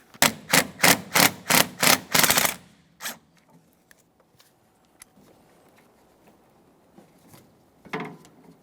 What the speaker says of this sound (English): Let's start removing that side first with a swivel head 12mm socket.